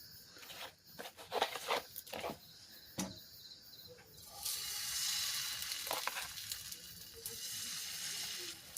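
Dosa batter with coriander leaves poured onto a hot tawa, with a few scraping and clattering knocks at first and then a steady hissing sizzle that swells and holds, heard close and alone.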